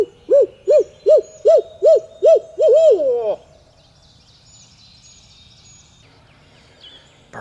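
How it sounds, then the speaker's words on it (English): A wild turkey gobbler sounds off at dawn from the roost on a rainy morning in Georgia, in a rapid run of about seven or eight gobbling pulses merging into a long rattling gobble, fairly close and loud, then fading into quiet ambience. "Bird just gobbled a lot closer to me."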